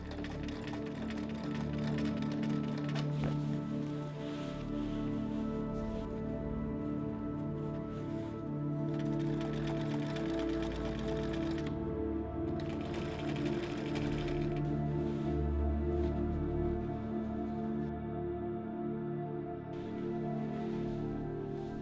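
A sewing machine stitches a seam through thick, sturdy fabric, its steady fast mechanical whirring and clatter running close and continuous for over twenty seconds, with no talking.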